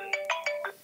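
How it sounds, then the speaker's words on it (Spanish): A mobile phone ringtone plays a quick, loud four-note electronic melody, clean and close with no voices over it. "Apaga el teléfono de Roberto."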